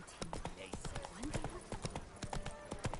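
Horse hooves clip-clopping at a brisk, regular trot in The Witcher video game, loud and close, with a character's voice speaking over the rhythmic hoofbeats.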